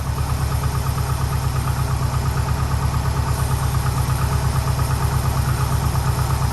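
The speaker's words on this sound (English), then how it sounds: "you can see the compressor continues to run, and it's nice and smooth." Newly replaced air conditioning compressor on a third-generation Subaru STI running smoothly with the engine idling, a loud steady mechanical hum and drone with a constant even pulse throughout.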